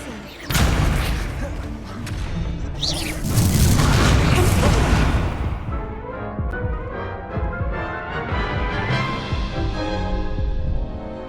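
The Incendio fire spell is cast in Hogwarts Legacy, a booming whoosh of flame bursting loud, then rolling into a sustained crackling roar that fades gradually under game sounds.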